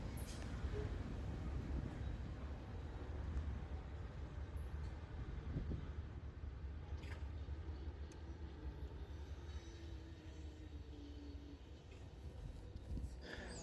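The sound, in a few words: GE 30T locomotive train passing southbound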